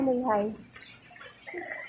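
Water runs weakly from a household tap, a thin steady trickle and splash lasting about two seconds, with a brief voice near the start.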